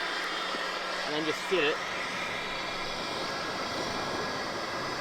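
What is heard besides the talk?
King Chrome battery blower running at camp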